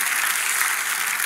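Congregation applauding during a Sunday united worship service in a church, a dense steady wash of many hands clapping at once, loud and continuous with no voices standing out.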